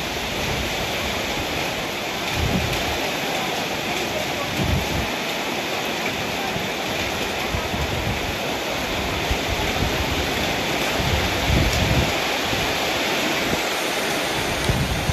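Steady rain falls on a hillside village where Hmong children live, a dense, even hiss of close, heavy rainfall running unbroken throughout, with occasional low thumps rising beneath it.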